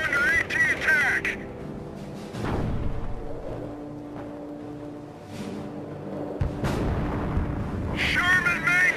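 Artillery and anti-tank fire in the World War II strategy game Company of Heroes, several heavy booms and blasts spread across the clip, with in-game voices calling out and a whistling effect at the start and end.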